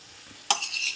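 Marinated chicken dropped onto cooked onions in a hot frying pan is stirred, a sudden loud sizzle and scrape bursting in after a quiet moment, close and continuing briefly.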